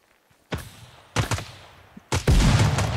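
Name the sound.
gunfire in Ground Branch video game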